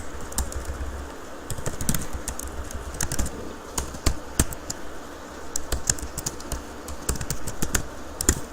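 Fingers typing HTML on a computer keyboard in a text editor, a close, irregular run of sharp key clicks with brief pauses between bursts and no talking.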